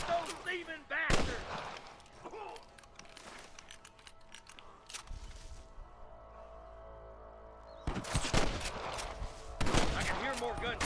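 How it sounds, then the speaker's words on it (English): Gunfire in the video game Red Dead Redemption, in a shootout helping the sheriff of Armadillo: sharp loud shots in a burst at the start and again near the end, with quieter mechanical clicks and a low rumble between. "I can hear more gunshots."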